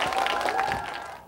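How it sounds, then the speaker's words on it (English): An audience at an indoor interview event gives a brief burst of applause that quickly thins and fades out to quiet within about a second. "Round of applause for Penny."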